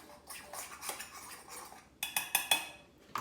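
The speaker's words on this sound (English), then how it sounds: "And just stir that together." A spoon stirring salt into brownie ingredients in a mixing bowl, producing light scraping and clinking against the bowl, then a quick run of sharper metallic taps, close and quiet with no talking.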